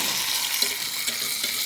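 Steak frying in a pan on high heat, a dense, even sizzle with faint crackles throughout, close and fairly loud.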